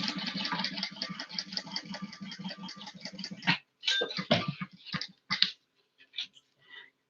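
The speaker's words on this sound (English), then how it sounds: "we're going to top stitch across that fold" A sewing machine runs a steady rapid top stitch across a folded fabric edge, loud and close for a few seconds, then stops and leaves scattered clicks and handling noises.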